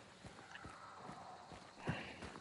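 Horse hooves clip-clopping in a PC video game, with a brief neigh standing out near the end over a low ambient bed.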